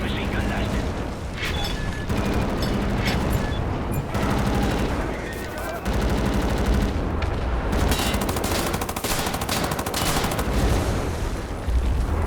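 Sustained gunfire from a machine gun nest in a Call of Duty game, with dense overlapping bursts and booms running loudly and continuously throughout, mixed with game speech.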